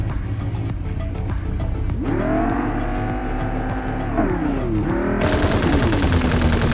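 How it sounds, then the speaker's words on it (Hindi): Gunfire in the mobile shooter game Farlight 84, with rapid shots and a car engine droning loudly throughout, the engine pitch rising and falling as the vehicle drives, and louder bursts near the end. "तभी वो बंदा एकदम से निकलता है, मुझ पर फायर किया"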